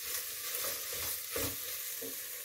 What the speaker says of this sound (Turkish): Salçamızı da iyice karıştıracağım.